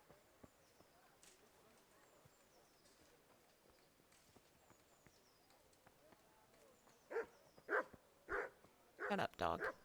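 A dog in a medieval kingdom video game barks in a quick burst of several loud yelps near the end, after quiet ambient game sound with faint hoof clops.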